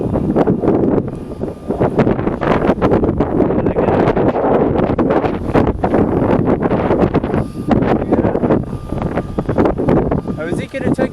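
Strong gusting wind buffets the microphone beside runway 20 at Southampton airport in windy conditions, a loud continuous roar with rushing bursts, while a voice talks over it.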